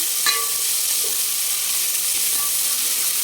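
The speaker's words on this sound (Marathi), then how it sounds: "हे आपण टाकून घेऊ ह्याला पण छान सोनेरी कलरवर आपल्याला परतून घ्यायचं" Three large finely chopped onions fry in a pan toward golden, giving a loud continuous hissing sizzle with a couple of faint spatula clicks and no talk.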